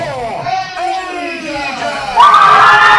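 A CCW wrestling crowd roars and shouts as a fan-favourite wrestler makes his entrance, loud mixed cheering swelling sharply toward the end, with an announcer talking over it.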